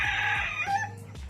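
A gamecock rooster on a farm lets out one close, loud crow that trails off, with faint clucking and other farmyard fowl in the background.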